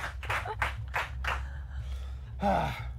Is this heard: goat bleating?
no